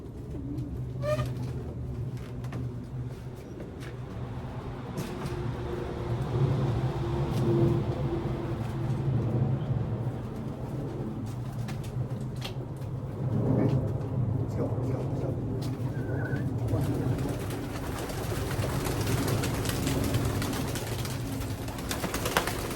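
Pigeons cooing repeatedly in a loft during bad weather, soft low coos rising and falling steadily under a continuous murmur of background noise and occasional distant traffic.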